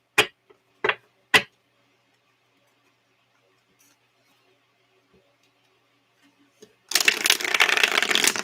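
Flexible plastic playing cards being handled: three quick riffles near the start, a quiet stretch with faint ticks, then a close, dense burst of continuous shuffling at the end.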